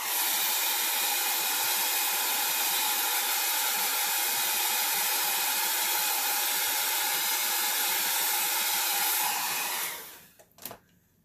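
A heat tool or hair dryer blows steadily to dry alcohol ink, a loud, close, continuous airy whoosh lasting about ten seconds before switching off, followed by a faint clatter.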